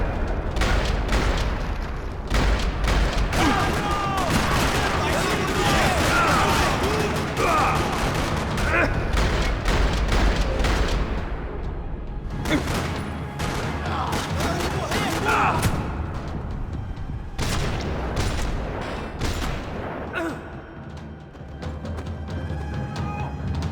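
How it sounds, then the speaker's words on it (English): Rapid bursts of gunfire in the video game Max Payne 3 crackle almost nonstop in a parking lot, with booming shots and impacts layered into a dense, loud firefight. "Another parking lot rattling with gunfire."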